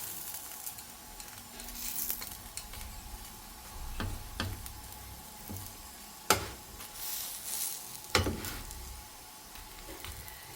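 Sweet corn paratha cooks on a hot pan with a continuous close sizzle, broken by a few sharp clicks and scrapes as it is pressed and turned.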